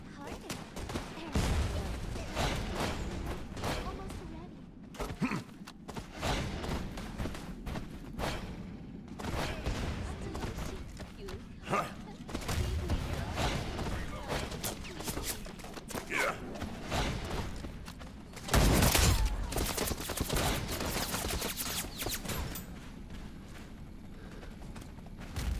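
Gunfire crackles in the video game Wild Assault, with rapid bursts and single shots rattling throughout, a loud heavy volley near the end, and game voices talking over the shooting.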